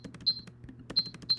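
Processed fork and utensil foley: a few sharp metallic clinks and pings ring out over a low, soft hum, three short bright hits spaced irregularly, fairly quiet.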